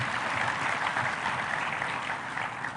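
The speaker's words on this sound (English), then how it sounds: "Please clap for that boy." A crowd at a school event in Kenya applauds a boy, producing a steady wash of many hands clapping at moderate volume, continuous and even throughout with no voices standing out.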